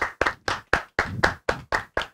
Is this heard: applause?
yes